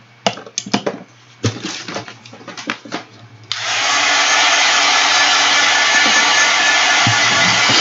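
A journal cover handled with a few knocks and rustles, then a hair dryer switches on and blows loud and steady at close range for several seconds.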